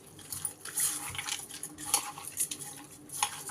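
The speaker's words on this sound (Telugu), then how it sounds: "ఇప్పుడైతే దీన్ని మొత్తాన్ని బాగా కలిపేసుకోవాలి." Chicken being mixed by hand with ginger garlic paste in a metal pot, heard as soft wet squelching with light clinks and scrapes against the pot, close and fairly quiet.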